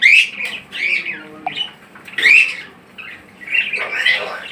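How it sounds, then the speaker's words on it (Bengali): Alexandrine parakeets squawk at a bird market in Tongi, giving loud, harsh, close calls in several separate bursts with short pauses between them. "চন্দনা টিয়া পাখি।"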